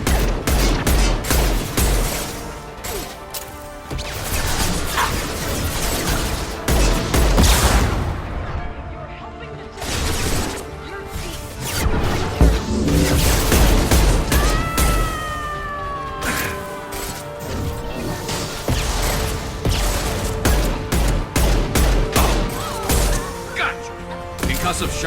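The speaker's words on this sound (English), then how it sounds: "Firing a high-impact shot!" Loud, repeated heavy gunshots and booming weapon fire in the video game Mass Effect 2, including a high-impact shot, firing in rapid bursts amid battle noise with voices speaking between the shots.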